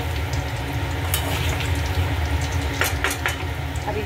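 Pui shak greens and catla fish sizzle steadily in a pan while a utensil stirs them, giving a few scraping clinks over the constant frying hiss; no one talks.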